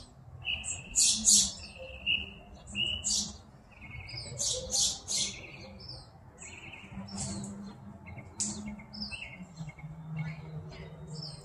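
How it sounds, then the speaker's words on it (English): Several birds singing and chirping outdoors at sunrise on a cold morning, bright repeated tweets and short phrases in bursts, moderately close, over a low background rumble. "My favorite part of the morning, watching the sun come up and listening to the birds."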